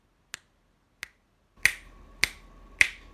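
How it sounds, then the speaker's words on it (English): Five ordinary finger snaps, sharp and close, the first two quiet and isolated, the last three louder and evenly spaced over a faint background hum. "This is a regular snap."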